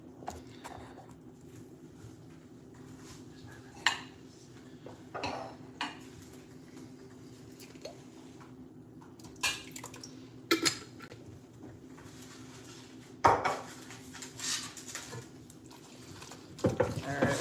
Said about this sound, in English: Mixing up some more red sauce.